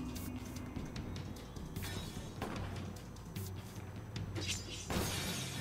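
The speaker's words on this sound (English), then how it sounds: "he's just shooting all the glass" Glass panes being shot out in the Button Buddies: Ronin video game break in a string of sharp shattering crashes, with several bright bursts scattered over a low game background hum.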